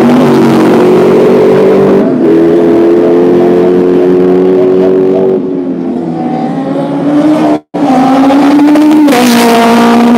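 Race cars lap the Mondello race track, loud engine notes holding and shifting pitch as cars pass close, with a brief dropout and a fresh rise in revs near the end.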